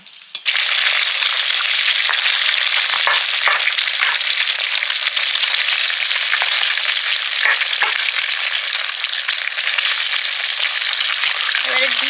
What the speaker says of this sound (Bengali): এবারে ভাজবো ডিম